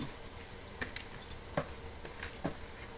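Quiet sizzling as dried shrimp and lentil curry is stirred in a pan over lowered flame, a soft steady fry with a few light scraping taps from the spoon.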